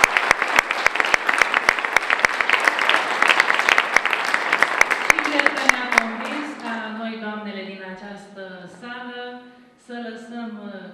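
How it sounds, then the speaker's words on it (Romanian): An audience applauds Simona at a CaliVita presentation. Dense, bright clapping runs for about five seconds and then fades as a voice starts speaking over the last few claps. "Să o aplaudăm încă o dată pe Simona!"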